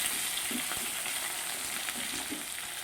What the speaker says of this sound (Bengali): জিরে দিয়ে ওর মধ্যে আলুগুলো ভালো করে একটু নাড়াচাড়া করে দেবো।